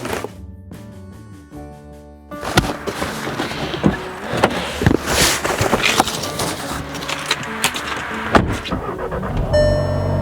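Car interior as someone gets in: several short clicks and thumps at first, then steady engine and road rumble with sharp knocks and bumps throughout, and a final whir near the end.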